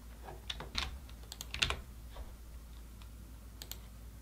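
Faint, irregular clicks of computer keyboard typing come in short bursts of keystrokes with pauses between them, heard close over a quiet room hum while FTP login details are entered.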